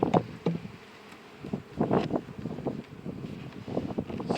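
Honey bees buzzing around a hive, a close, uneven drone that swells and fades in repeated bursts against light wind noise.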